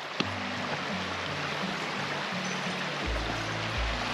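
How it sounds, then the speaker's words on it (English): A woodland stream flowing along the banks of Cherry Creek near a lodge, a steady broadband wash of water heard close by with a low burbling undertone, continuous and alone. "Check out the stream."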